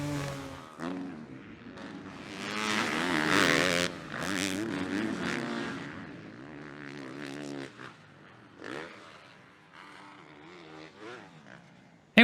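Two-stroke 250 motocross bikes in MX vs ATV Legends barking and revving, a loud rising engine wail at the start, then fading and returning in shorter bursts before a sharp final hit.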